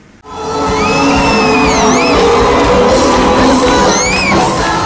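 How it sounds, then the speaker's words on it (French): A gospel concert crowd cheering, whooping and shouting with joy as people dance, a loud, dense and sustained roar with high shrieks rising above it throughout. "Des cris de joie, des pas de danse à la gloire de l'Éternel"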